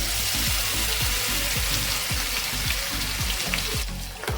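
Freshly ground black masala paste hitting hot oil in a pan for a drumstick (shevga) curry, a loud, close, steady crackling sizzle with brief repeated thumps of stirring throughout, and no voices.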